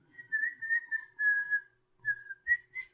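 Someone whistles a short tune, clear and close, in a few melodic phrases broken by brief pauses.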